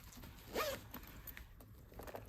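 Zipper on an inner pocket of a tote bag pulled once in a short, quiet rasp, followed by faint handling rustles in a hushed room.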